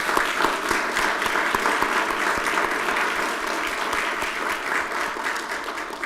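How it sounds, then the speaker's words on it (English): Attendees at a county State of the County address give the county commissioners a steady round of applause, a full, even spread of clapping from a sizable room with no speech over it. "Please join me in a round of applause for our commissioners."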